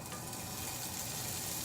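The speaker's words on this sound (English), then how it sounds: "You'll want it to be hot enough so it sizzles once it goes in." Rind-on bacon sizzles in a hot pan, a dense, steady crackling hiss that stays even and continuous throughout with no talking.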